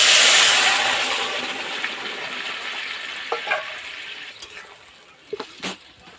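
Hot oil tempered with five-spice and green chili hits rohu fish curry in a loud sizzling burst that fades into a softer steady bubbling hiss, with a few light clinks of a utensil near the end.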